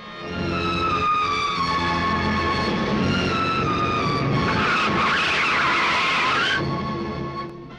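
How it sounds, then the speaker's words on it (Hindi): A car drives in and skids loudly with a long tyre squeal in a Hindi action film chase, engine roar and screeching holding steady for several seconds before easing off. "उधर बेटी की गाड़ी आ रही है"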